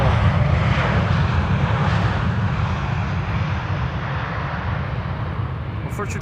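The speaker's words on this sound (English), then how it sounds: "Embraer 190 and an Embraer 175 arrived from Humberside next after that" A KLM Embraer 190 jet airliner arriving at Amsterdam Schiphol gives a loud, steady broadband engine roar that fades slightly over the clip. Talk runs beneath the noise.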